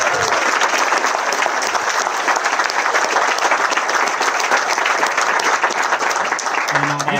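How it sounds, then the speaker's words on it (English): Sustained audience applause fills a press conference room, dense steady clapping from many people, loud and close, lasting several seconds before tailing off. "So let's get Patrick and his team a big round of applause."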